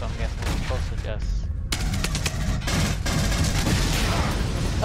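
Rapid automatic gunfire in the video game Aliens: Colonial Marines, with dense bursts of cracking shots that come and go over a constant rumble of game sound, while someone talks over the action.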